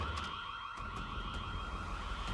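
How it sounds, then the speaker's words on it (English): A car alarm blares continuously with steady, sustained tones, loud and unbroken throughout with no voices. "Why is the alarm going off?"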